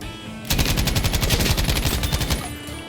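Rapid bursts of automatic gunfire in the World War II shooter game Battlefield V, a loud, dense rattle of shots that starts abruptly and continues steadily for a few seconds before cutting off.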